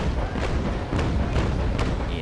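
Ship cannons firing in the naval battle game Naval Action, several heavy booms spaced about half a second apart over a constant low rumble of sea and wind.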